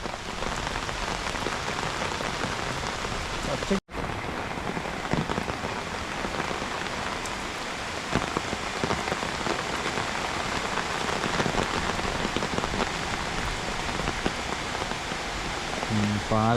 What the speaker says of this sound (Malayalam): ഈ മഴൻ്റെ സൗണ്ട് ഇങ്ങനെ കേട്ട് ആസ്വദിച്ച് ഇങ്ങനെ ഇത് കാണണം